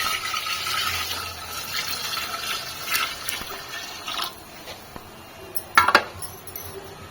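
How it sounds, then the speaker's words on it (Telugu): Water is poured steadily into a pot for chicken dum biryani, a soft running splash, followed near the end by a couple of sharp metallic clinks. "నేనైతే వాటర్ పోసేస్తున్నాను"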